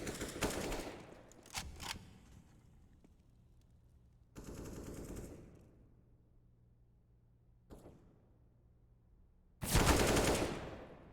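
Bursts of automatic gunfire ring out on the Mirage map in a Counter-Strike match, several loud rapid volleys separated by quieter gaps, with the final burst the loudest.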